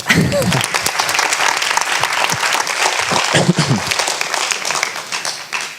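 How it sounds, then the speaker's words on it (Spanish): An audience at a 2013 climate change symposium in Valparaíso bursts into loud, sustained applause, many hands clapping close together for several seconds, with a few voices mixed in. "Un aplauso."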